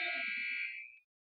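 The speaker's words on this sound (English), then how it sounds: "as the buzzer goes off" A basketball game buzzer sounds at a girls' high school state tournament game, a loud, steady electronic tone held for about a second before cutting off.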